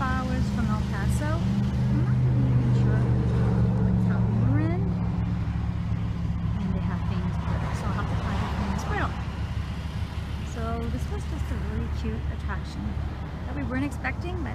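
A car drives a highway in New Mexico between Roswell and El Paso, giving a steady, loud road and engine drone throughout while people talk over it.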